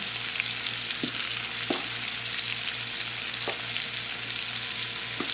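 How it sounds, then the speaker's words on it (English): Water for spaghetti bubbles and seethes in a pot with a steady low hiss, a few louder pops standing out now and then. "now the water is boiling"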